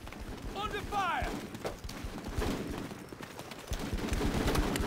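Gunfire crackles in the Full Spectrum Warrior: Ten Hammers video game, scattered shots and bursts under voices talking and shouting, moderately loud throughout.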